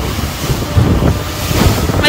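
Strong wind buffets the microphone on a boat near the Phi Phi Islands, with waves slapping the hull in loud, rough gusts and surging water throughout.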